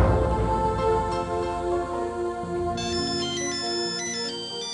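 A phone ringtone plays continuously, a bright electronic melody with repeating tonal notes, loud and close, with no talking.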